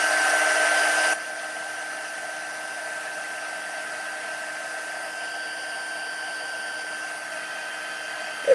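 Heat tool blowing hot air to melt embossing powder on paper, a loud whirring rush that drops to a quieter steady hum after about a second and runs on alone.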